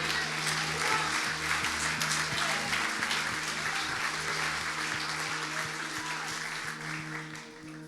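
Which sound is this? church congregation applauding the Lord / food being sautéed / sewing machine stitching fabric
church congregation applauding the Lord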